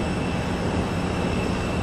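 A loud, steady roar of airplane engine noise surrounds passengers boarding a plane from the tarmac, a dense broadband rumble that holds constant with no voices heard.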